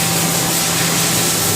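Haas VF-4SS Super Speed CNC vertical machining center from 2004 with its spindle running at 5,000 RPM, a loud steady whirring hum with broad airy hiss, continuous and close.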